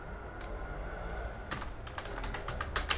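Computer keyboard typing: a single keystroke, a pause, then a quick run of light clicking taps, close and fairly faint over a low background hum.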